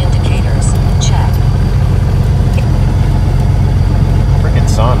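A small airplane engine idles on the ground during a pre-flight checklist, a steady low droning rumble throughout with faint chirps above it.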